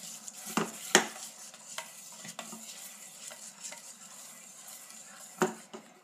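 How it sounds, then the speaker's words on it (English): Sweetened condensed milk and vanilla extract whisked together in a bowl for no-machine cookies and cream ice cream, a steady soft scraping swirl broken by a few sharp clinks of the whisk against the bowl, close and alone. "just whisk it together until it is completely and thoroughly mixed"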